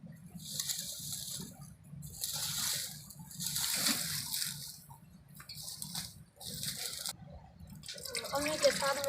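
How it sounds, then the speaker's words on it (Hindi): Water poured from cups into a pot for making kahwa over an outdoor fire, with splashing pours in several bursts separated by pauses, a voice talking faintly underneath. "2 प्याले डाल रही है पानी की"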